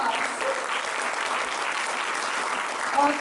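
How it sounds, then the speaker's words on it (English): An audience at a Guru Poornima gathering in Auckland, New Zealand, claps in steady, even applause for the whole short stretch, a moderately close crowd with no talking. "Let's give him a round of applause."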